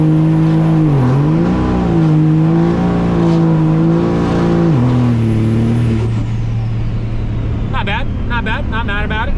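A 1000HP Cummins diesel truck accelerates hard with its tires spinning, a loud, steady engine drone rising and dipping in pitch for several seconds before easing off, followed by a few sharp chirps near the end; a voice may be talking underneath.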